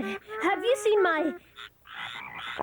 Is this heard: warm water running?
no